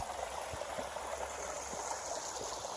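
Water flows steadily down a backyard runoff trench that drains into a nearby creek, a soft, even rushing and babbling with faint bubbling, moderately close and alone.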